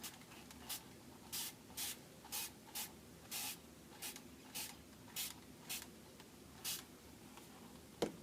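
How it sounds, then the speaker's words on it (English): Water from a hand spray bottle mists onto an acrylic ink background in about eleven short, sharp hissing bursts, each with a faint trigger click, close and quiet with brief pauses between pumps. "And I'm going to spray it and let it spread out."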